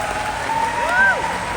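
Audience applause for the final two players in a musical chairs game at a high school Hmong Night event, a short burst of clapping that swells midway, with a host's voice talking over it.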